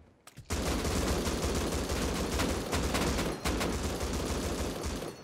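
Rapid bursts of gunfire in the survival game Rust, a dense continuous fusillade of shots that starts abruptly, keeps up almost without pause and carries loud and close, with only a brief dip near the middle.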